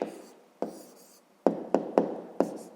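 A pen writes an answer on paper for a fifth-grade math exercise, with a few scratchy strokes followed by quick separate taps and short marks, close and alone.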